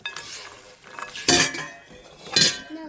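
Cashews being candied are tossed in a pan, with a couple of sharp clinks and scrapes of a utensil against the pan over a soft, continuous stirring rustle.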